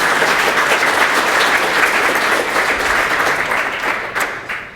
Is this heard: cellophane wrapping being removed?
no